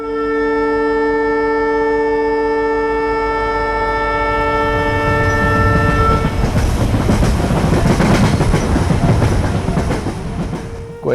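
A coal-loaded freight train sounds a long, loud horn blast, then the horn cuts off into heavy rumbling and clattering of wagons rolling past nearby, with no voices over it.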